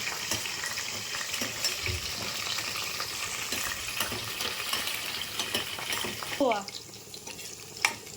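Garlic fries in a pan for chicken fry, a continuous low crackling sizzle with occasional stirring clinks, then a brief scrape and a sharper utensil tap near the end.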